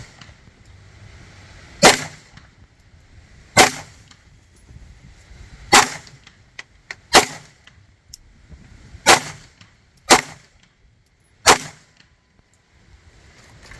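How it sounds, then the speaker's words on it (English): A Glock 43 pistol firing steel-cased ammunition: seven sharp, loud, separate shots spaced one to two seconds apart, with quiet in between and no voices. "We're going to run same steel ammo through the Glock 43 and see how it does."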